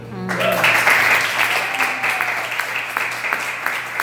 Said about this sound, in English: give another round of applause for everyone that hit the mic tonight